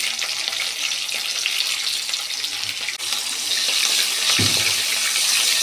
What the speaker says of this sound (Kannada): ಸ್ವಲ್ಪ ಬಾಡಿಸ್ಕೊಳ್ಳೋಣ ಈರುಳ್ಳಿ